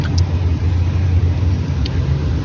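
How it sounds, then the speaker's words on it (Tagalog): Road traffic noise, a steady low rumble of passing cars and engines close by, continuous and fairly loud with no talk over it. "Yan, traffic."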